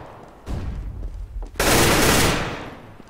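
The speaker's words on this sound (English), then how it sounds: "I'm throwing a flashbang." A flashbang grenade is thrown in CS:GO, with a few sharp shot-like bursts early on, then a loud, close bang that swells into a long, harsh wash of noise slowly fading over the last second.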